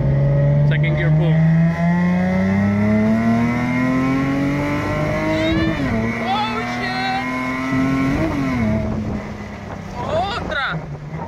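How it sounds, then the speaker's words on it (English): A Toyota AE86 fitted with a 2JZ VVTI engine and W58 gearbox pulls hard in second gear, its loud engine note climbing steadily in pitch over several seconds, with wind noise and people talking briefly over it. "Second gear pull."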